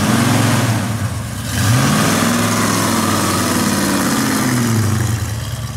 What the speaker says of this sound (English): Now that is how a car is supposed to sound.